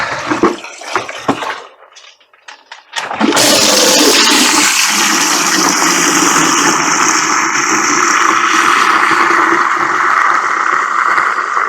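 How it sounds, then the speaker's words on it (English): Water being added back into a tank, starting with a few scattered clunks and handling noises, then a sudden loud, continuous rushing gush of water that stays steady to the end. "So we're adding water back in now."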